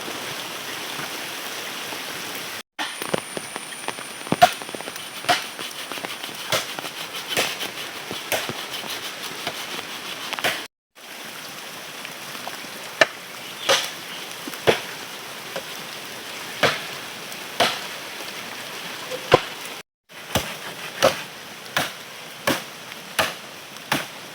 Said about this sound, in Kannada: ಭಾರಿ ಮಳೆ ಬಂತು